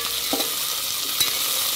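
Sliced onions and curry leaves sizzle gently in oil in a pan for tomato rice, with a few soft scrapes of a spoon stirring them; a steady, even frying hiss and no voices.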